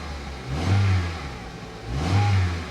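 A cheap used car at a salvage auction lot is revved twice, two rising-and-falling engine surges about a second apart over a steady idle, close and fairly loud.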